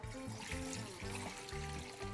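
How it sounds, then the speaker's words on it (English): Water is poured steadily into a brine mixture for a BBQ turkey breast, a continuous close trickle with no talk. "So for the brine, first we'll add the water."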